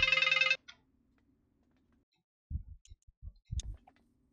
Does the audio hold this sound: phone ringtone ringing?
yes